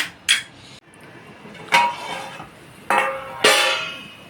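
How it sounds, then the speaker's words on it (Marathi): A metal lid clanks onto a pot of mango sheera on the stove. Several separate sharp metallic knocks and scrapes ring out, close and clear, with quiet gaps between them. "आता मी ना झाकण लावून मारून ठेवते"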